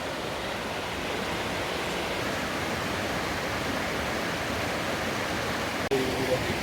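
The Salton waterfall in a forest near Lamon roars steadily and loudly as a dense, unbroken wash of falling water, with a brief knock near the end.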